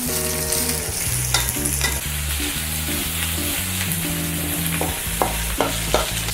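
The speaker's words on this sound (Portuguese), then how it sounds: "é colocar a couve, a cenoura e a cebola. Vamos deixar quebrar um bocadinho os legumes." Cabbage, carrot and onion stir-frying in a pan, a steady close sizzle broken by repeated scraping and tossing sounds, with faint music running underneath.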